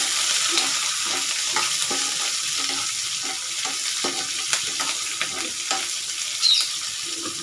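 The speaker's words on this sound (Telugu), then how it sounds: "పచ్చిమిరపకాయ కూడా ఫ్రై చేద్దాం మంచిగా." Five or six green chillies fry in oil in a pan with a steady, close sizzle and light crackle, a few scrapes of stirring poking through, and no voices over it.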